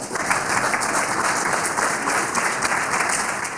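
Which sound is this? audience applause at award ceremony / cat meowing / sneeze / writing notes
audience applause at award ceremony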